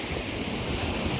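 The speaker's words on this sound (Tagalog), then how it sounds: "ang laki-laki ng alon pero may naliligo pa" Big sea waves crash and roll onto the shore in a steady, loud wash of surf with wind noise across the microphone, no talking.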